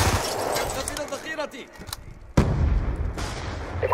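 A sentry gun fires in Black Ops 2 multiplayer, sharp gunshot bursts and heavy blasts amid battle noise, with a player talking over the action.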